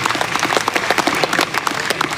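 Audience clapping at a Hindu religious discourse and kirtan gathering, a dense, steady burst of many hands clapping together, close and loud, with no talk over it.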